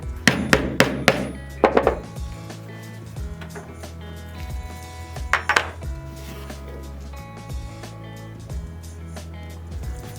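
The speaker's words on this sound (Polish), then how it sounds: "resztę kierujemy wzdłuż linii i ponownie wybijamy pobijakiem" Mallet blows driving a diamond leather punch through natural leather, a quick cluster of sharp close knocks at the start, then a single strike in the middle, with a low steady hum underneath.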